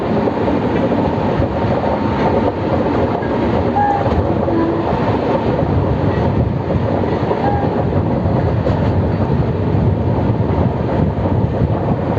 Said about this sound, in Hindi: पूरा हम लोग का ट्रेन घूम के जा रहा है